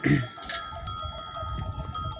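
Flock of sheep gathering with ringing cowbells, irregular metallic clanks over soft shuffling and low animal sounds, moderately near.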